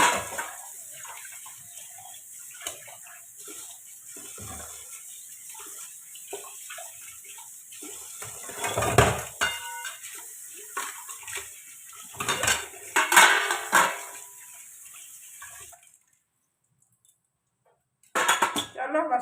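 Dishes being washed under a running tap, with metal pots and utensils clanking and scraping against each other over steady water flow, while someone talks over the sound; near the end the water stops briefly before resuming.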